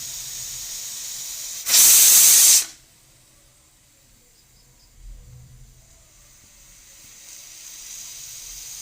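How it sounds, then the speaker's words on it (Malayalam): A pressure cooker with chicken inside lets off one loud, sharp burst of steam hiss lasting about a second, followed by quiet kitchen background. "ഇനി നമുക്കൊരു ഹൈ ഫ്ലെയിമിൽ ഒരു 4 വിസിൽ വേണ്ടി നമുക്കിത് വെച്ച് കൊടുക്കാം"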